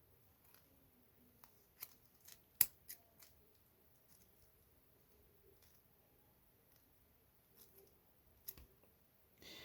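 Cutting trims excess material from a belt flap extension on a M1937 B.A.R. magazine belt, heard as a few sparse, sharp snips and clicks scattered over a quiet background.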